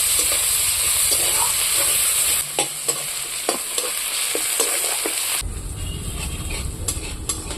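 Onions frying in hot oil in a pan, a steady loud sizzle with intermittent stirring scrapes, the hiss dropping and changing partway as more goes in.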